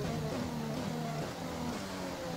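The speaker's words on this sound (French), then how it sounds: "J'ai besoin d'entendre un petit peu mon moteur au moment où Jeff me parle" A Formula 1 car engine in the racing game F1 2020, holding a steady, droning tone with slight pitch wobbles throughout a short stretch, close and continuous, with no other sounds.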